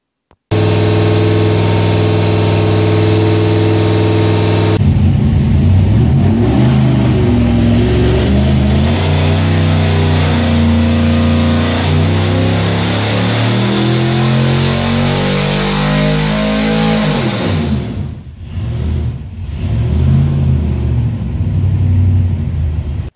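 A V8 engine fitted with a Race Demon carburetor runs on a dyno, first holding a steady loud drone, then sweeping up in a long climbing rev toward 6,200 RPM before a brief dip and recovery, with no talking.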